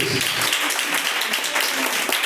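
Congregation applauding during a live church worship service, a dense steady wash of many hands clapping at close range, with scattered voices mixed in throughout.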